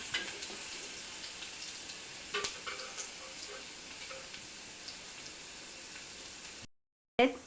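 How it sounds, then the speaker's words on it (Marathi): Garlic sautéing until reddish in a pan for a wild mushroom curry, giving a steady, moderately quiet sizzle with faint crackles throughout, briefly cutting out near the end before resuming. "तर लाल होऊन देते लसूण व्यवस्थित परतून घेते"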